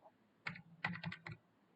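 Keys are typed on a computer keyboard in a quick, faint burst of about five or six close clicks against near silence.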